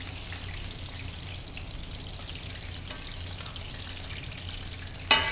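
Wiener schnitzel, only lightly pounded, sizzles and crackles steadily in hot oil in a pan being gently swirled, a close continuous fry with a sharp clink near the end.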